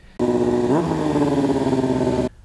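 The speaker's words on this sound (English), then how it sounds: "the reason why the bike is so loud is like visually and actually loud is because it's stunt riding" A stunt motorcycle engine starts abruptly and revs loudly up close, rising briefly in pitch before settling into a steady roar that cuts off.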